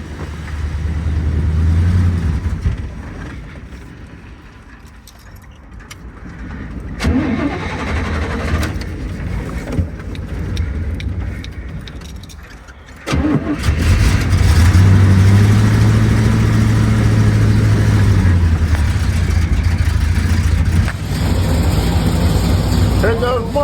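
A 1972 Corvette with a 454 engine and four-speed, pulled from a barn, cranks and fires up, its heavy V8 rumbling unevenly before catching and revving loudly at close range, with people talking over it.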